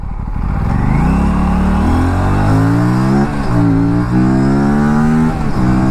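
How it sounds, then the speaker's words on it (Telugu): A motorcycle engine revs hard and climbs through rising pitches as it accelerates, loud and close, with brief drops between gear shifts. "స్పోర్ట్లో పుల్ చేస్తుంది బైక్ మంచిగా."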